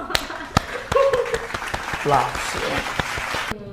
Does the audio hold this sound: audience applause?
yes